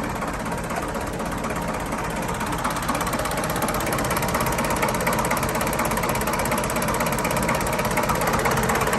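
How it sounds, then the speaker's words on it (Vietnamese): A machine engine idles steadily and evenly, a continuous low rumble with a fine rapid pulse, heard from close by, unbroken and alone without voices. "Máy nổ anh ti thì thầm ớn."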